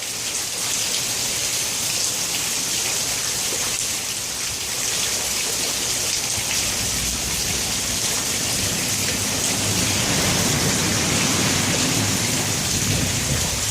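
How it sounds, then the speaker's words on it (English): Very heavy rain pours down in a thunderstorm beside the Lachine Canal, heard from under the Charlevoix bridge: a dense, loud, continuous hiss of downpour with low rumbling thunder swelling underneath, no voices. "It's too rainy to go out there. Very heavy rain."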